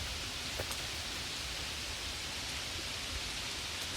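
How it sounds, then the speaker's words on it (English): Steady rain falls on a footpath under trees near Castell Dinas Bran in Llangollen, a constant even hiss of drops on leaves and ground with no voices. "the weather takes a turn for the worse, and it starts raining"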